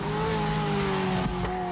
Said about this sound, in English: The Ferrari 355 F1.